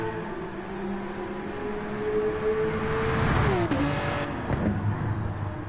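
A Porsche Cup race car at Mount Panorama roars through a pass, its engine note building and peaking in a Doppler sweep before fading away beneath continuous track noise.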